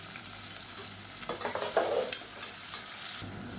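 Onion, garlic, dried red chilies and curry leaves sautéing in oil for a cowpea kuzhambu, a soft, close sizzle with a few light scrapes of stirring, no speech.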